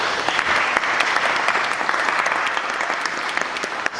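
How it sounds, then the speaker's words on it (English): Audience applause for debate speakers at a public debate on whether God is necessary for life's meaning: dense, steady clapping from a crowd, loud and sustained throughout with no voices. "A round of applause for our speakers today."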